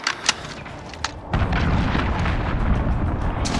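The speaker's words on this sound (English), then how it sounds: "Be advised, Allied cruise missile away." A cruise missile detonation in Call of Duty: Modern Warfare, a deep rumbling boom that swells in and sustains as a heavy low roar, preceded by a few scattered distant pops, with no talking.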